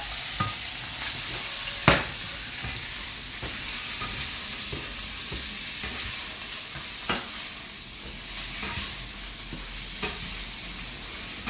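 Shrimp sizzling as fried rice is stir-fried in a hot pan over high heat, a steady crackling fry broken by sharp scrapes and clanks of the spatula against the pan.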